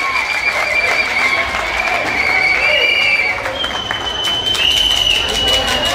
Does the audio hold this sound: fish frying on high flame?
no